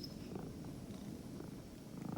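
A domestic cat purring softly and steadily, a low continuous rumble held close for about two seconds with no talk.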